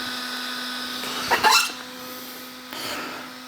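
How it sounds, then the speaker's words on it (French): The single cooling fan of a Hobbytech DB8SL RC car gives a steady mechanical whir with a constant hum throughout, briefly broken by a louder burst of clattering noise near the middle. "On entend les ventilateurs"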